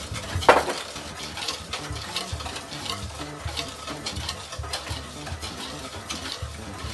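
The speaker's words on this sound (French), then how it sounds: "Toujours en remuant" A mixture cooking in a pan is stirred continuously, giving close scraping and swishing strokes over a soft sizzle, with a brief clink of utensil on pan near the start and no voices.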